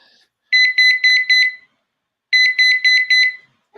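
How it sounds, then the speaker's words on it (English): An alarm clock in a spare room rings in two loud bursts of four rapid high beeps each, separated by a short silence, close and clear with no talking. "Putting on the alarm clock in the spare room."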